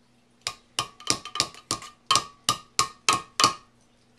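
Metal hammer blows bending down the edges of an aluminum cat can stove, a dozen sharp tinny strikes in an uneven, fairly quick rhythm with a faint ringing tail, no speech.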